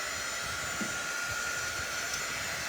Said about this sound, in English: I'm going to go ahead and dry this with my quick dry tool just to make sure it's dry.